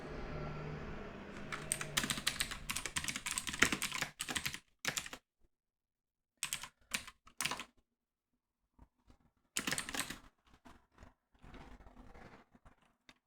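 Close, quiet computer keyboard typing while writing code, rapid clattering bursts of keystrokes separated by short silent pauses.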